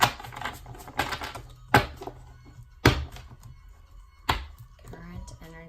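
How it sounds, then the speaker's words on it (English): Tarot cards being shuffled, with a few sharp slaps and snaps standing out over soft rustling and low background hum. "just going to shuffle one more time here"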